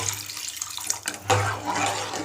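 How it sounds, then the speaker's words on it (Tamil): Water pours steadily into a cooking pot, a short gurgling stream that picks up and grows fuller partway through, fairly quiet and close. "இன்னும் ஒரு சொம்பு ஊற்றிக்கலாம்"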